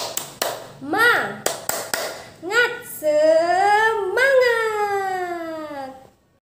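Several sharp hand claps land in a quick rhythm, then a second-grade class of young voices chants loudly together in a drawn-out, sing-song Indonesian spirit cheer.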